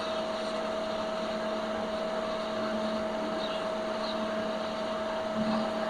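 A steady engine drives a generator with a constant droning hum and strong tonal whine, running loud and close throughout, with no clear rise in pitch as the RPM is raised.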